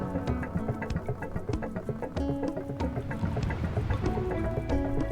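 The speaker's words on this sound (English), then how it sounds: "Sounds like a really old fuel engine." A vehicle engine idles in the video game Sable, a steady, rough old fuel-engine drone that runs continuously and fairly loud, with layered tones over it.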